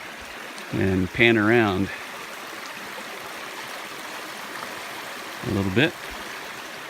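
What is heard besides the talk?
stream water flowing around a Kubota utility vehicle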